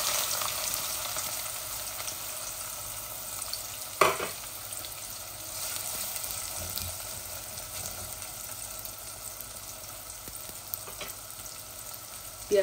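Onion frying in a pan with dried spices gives a steady, close sizzle, broken by a few sharp scrapes and stirring knocks at about four seconds and near the end.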